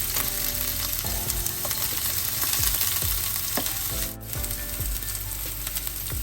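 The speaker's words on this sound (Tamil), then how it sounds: "முதல்ல இந்த ஸ்லைஸாக வெட்டி இருக்கிற வெங்காயத்தில் அரைவாசி கீழுக்கு சேர்ப்பான்" Sliced onion sizzling and frying in sesame oil in a pan, a steady loud crackle broken by occasional stirring scrapes and clinks.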